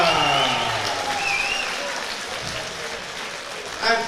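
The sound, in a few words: audience applause at boxing show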